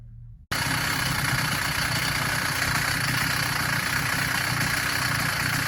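A replacement two-stroke engine on a motorized bicycle kicks in abruptly after a brief quiet moment, then runs with a loud, steady buzzing drone at close range, with no talk.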